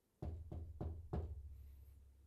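Four firm, evenly spaced knocks land on a front door, close and distinct, with a low hum lingering underneath after the last rap.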